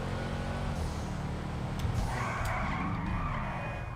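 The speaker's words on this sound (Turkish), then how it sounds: "Acayip sesi varmış lan bu araçın." A car in GTA 5 revs its engine and skids, tyres squealing in a long screech over a loud, rough motor drone, close and continuous, with no talking.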